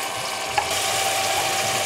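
Vindaloo paste sizzling as it fries briefly in a pan for chicken vindaloo, a steady bright hiss with a faint scrape of stirring, close and continuous with no talk.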